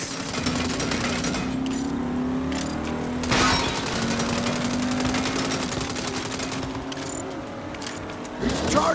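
Rapid automatic gunfire rattles in the Saints Row video game during a car chase, sustained loud bursts layered over a roaring vehicle engine, with shouting voices mixed in.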